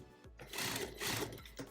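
A sewing machine stitching a quarter-inch seam on a custom T-shirt, a close steady mechanical whir running in short bursts.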